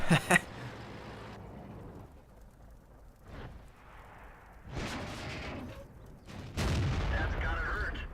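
Tank cannon shots from a German tank in the World of Tanks video game boom out as three heavy blasts, one sharp at the start and two more later, with quieter battle noise between them and a player talking.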